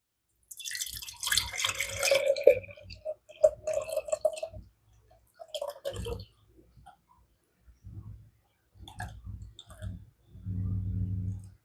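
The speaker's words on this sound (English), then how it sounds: "you're going to just pour in your buttermilk" Buttermilk poured through a strainer lid into a jar, heard as intermittent trickling and dripping in short bursts, close and fairly quiet, with brief pauses between pours.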